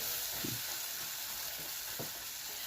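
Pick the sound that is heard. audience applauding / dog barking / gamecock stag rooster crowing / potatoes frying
potatoes frying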